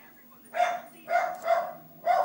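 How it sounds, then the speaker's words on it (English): A pet dog barks four times in short, evenly spaced bursts over about two seconds, moderately loud and fairly close, with no talking over it. "That's my dog barking"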